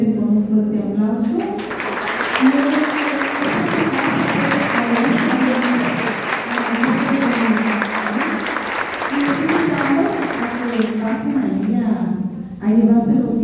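Applause from a lecture audience thanking the speaker after a talk on the Divine Will, a steady roar of clapping running about ten seconds, with voices and talk over it before and after.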